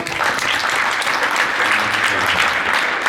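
Audience at a post-prom hypnosis show breaks into applause, a dense, continuous burst of clapping from a large crowd lasting the whole moment with no pause.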